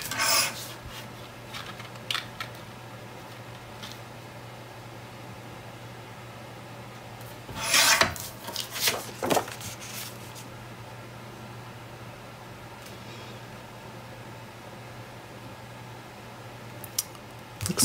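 Paper is trimmed for a Graphic 45 steampunk craft page in a few short scraping, rasping cuts: one at the start and a longer cluster midway. Quiet pauses and faint room hum fill the gaps.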